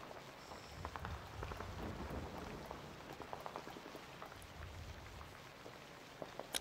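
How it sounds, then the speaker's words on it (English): Steady rain patters continuously across the whole stretch in the game Iconoclasts, with scattered drop-like ticks and no voices. "nice rain."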